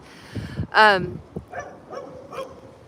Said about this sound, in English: Oh, now we got dogs.